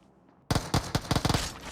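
Rapid bursts of Uzi submachine gun fire in a video game crack out after a brief quiet, several loud, closely spaced shots in irregular clusters, sharp and near.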